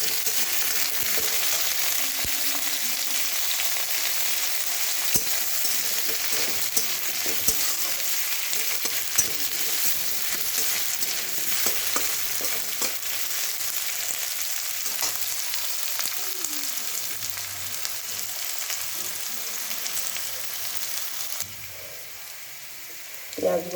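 Onion and potato fry in hot oil, with a steady sizzle throughout and occasional scrapes and knocks of a spoon stirring the pan.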